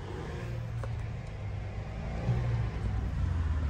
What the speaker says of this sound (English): I can literally hear her a mile away driving fast, bro.